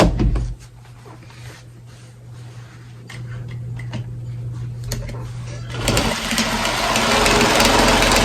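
A sewing machine stitching a potholder: a quieter rhythmic mechanical whir at first, then louder and steadier running toward the end, close by.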